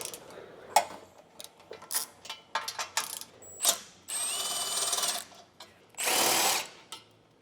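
Power tool spinning off 14mm nuts from a Toyota Tacoma crash bar, short whirring bursts and ratcheting clicks between pauses, with two longer runs near the end, close and fairly quiet.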